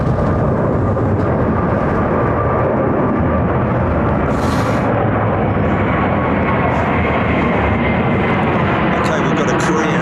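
A Korean Air Boeing 747 departs London Heathrow overhead, a loud, continuous broadband jet roar filling the whole stretch without easing.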